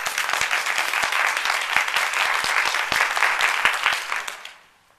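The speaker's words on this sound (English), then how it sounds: "Now, I clap on that one." An audience claps together in a steady, dense burst of applause with sharp individual claps standing out, loud and close, before fading out quickly near the end.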